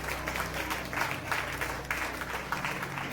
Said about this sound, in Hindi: ताली बजाओ जोर से, उसकी महिमा करो।